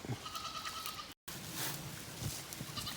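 A goat herd bleats faintly from a distance near a pond, several wavering calls over a steady outdoor background with a brief dropout partway through.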